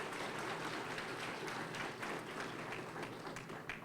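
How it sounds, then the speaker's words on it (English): Applause from an audience at a community COVID conversation meeting in Clinton, a steady dense patter of many hands clapping throughout at moderate volume. "So give both of them a round of applause."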